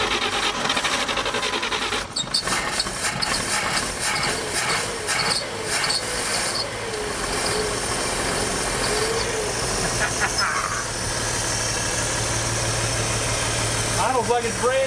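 A 1949 Chevy barn-find engine idles steadily after a new set of points, a continuous mechanical drone with people talking over it.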